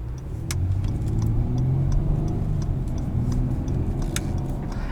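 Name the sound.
2018 Acura TLX A-Spec 3.5L V6 engine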